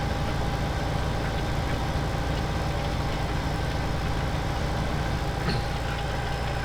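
A tractor engine idles and runs in Farming Simulator 17 during autumn field work, a steady unbroken drone with no talk over it.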